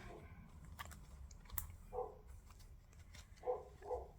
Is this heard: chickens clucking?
no